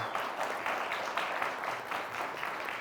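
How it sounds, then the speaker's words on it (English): Continuous crowd applause for the Rockford Police Department, a thick wash of clapping holding steady at moderate loudness. "Keep the applause going."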